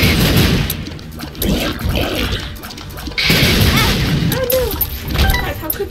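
Bomb explosions in The Binding of Isaac: Rebirth, a string of loud booming blasts with crashing bursts, layered over game music and effects with no talk.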